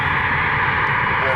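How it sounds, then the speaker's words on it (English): A Cessna Citation business jet taxiing quickly at Cleveland airport, a steady broad engine whine and rumble holding constant at moderate distance, with faint talk over it. "Here's our Citation that's taxiing. They're taxiing quick."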